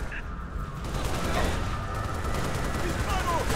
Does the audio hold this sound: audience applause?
no